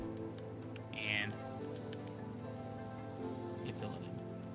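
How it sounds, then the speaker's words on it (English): A short spray-paint hiss sounds while a base is being painted in Ark Survival Ascended, one brief burst over steady game ambience with a second fainter hiss later. "And then we take the spray paint and"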